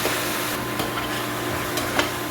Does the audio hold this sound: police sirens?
no